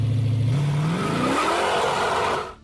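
A Dodge Charger Daytona engine revs hard, pitch climbing steadily over about two seconds, loud and close, then cutting off abruptly.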